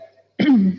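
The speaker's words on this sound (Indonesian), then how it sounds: "agak batuk soalnya" A single short cough or throat clearing from a presenter during a marketing mentoring session, close and fairly loud, lasting under half a second after a brief quiet.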